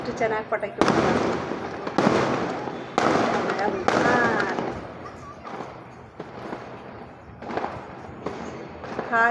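Diwali firecrackers going off outdoors at a home celebration: repeated sharp bursts and thuds about once a second, some whistling sparklers, with a person talking throughout.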